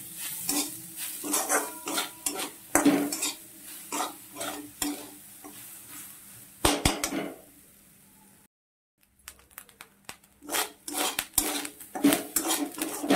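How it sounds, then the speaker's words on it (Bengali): Grated coconut frying in a pan while a utensil stirs it, with a soft sizzle under repeated close scraping and clinking strokes against the pan and a short quiet break near the middle. "নারকেলকে ভেজে নেব একটু"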